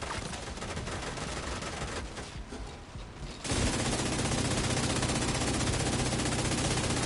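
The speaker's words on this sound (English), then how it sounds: "Seems like those heavies were shooting me non-stop" Heavy enemies in The Division 2 pour out non-stop automatic gunfire, dense rapid bursts that dip briefly midway and then return louder and sustained.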